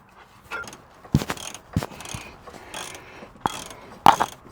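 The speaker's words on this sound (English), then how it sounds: "they require you to use just the ratchet" A ratchet wrench works on a shock absorber bolt of a Sprinter 2500 van during a suspension upgrade, giving scattered sharp metallic clicks and clacks in several bursts, close and fairly loud, with no talk.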